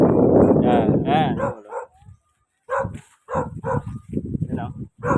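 A dog barks from somewhere outdoors in a rural Filipino setting, heard as a few short yaps under loud nearby talk by a man, with gaps of quiet between phrases.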